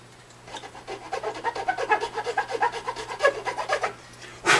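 A plastic guitar nut is worked with StewMac files: a rapid series of rhythmic rasping strokes, close and fairly loud, about a dozen back-and-forth passes with no talk.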